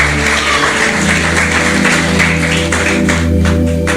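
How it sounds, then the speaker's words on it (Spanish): Church congregation applause, a loud continuous wash of clapping from many people, held steady throughout with a sustained musical tone under it. "Dele un fuerte aplauso al Señor."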